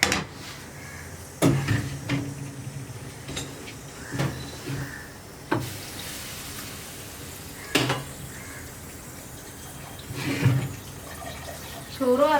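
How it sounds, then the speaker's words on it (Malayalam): Water from a kitchen tap runs over a pressure cooker in short, irregular bursts, with splashes and occasional metallic clinks of cookware over a low background hum. "അതുകൊണ്ടാണ് ഇങ്ങനെ ടാപ്പ് തുറന്ന് കുറച്ച് വെള്ളം കുക്കറിൻ്റെ മേലെ ഒഴിക്കുന്നത്."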